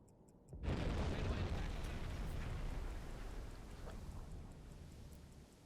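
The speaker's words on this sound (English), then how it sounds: "One torpedo hit, and she's gone." A sudden loud blast from a torpedo striking and exploding against a ship's hull in Silent Hunter 5, erupting after a brief quiet and then rumbling and decaying slowly over several seconds.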